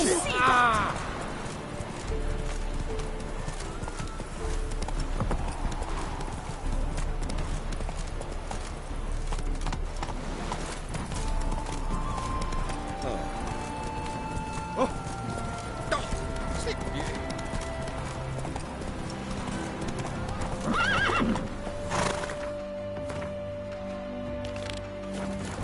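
Roach the horse gallops in The Witcher 3, a steady clip-clop of hooves with a brief whinny, running beneath game music, effects and voiced dialogue for the whole stretch.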